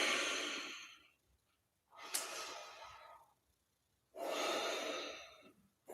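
Deep rhythmic breathing during a kundalini yoga exercise, with two long, loud, breathy exhales or breaths separated by quiet pauses, close up and without talk.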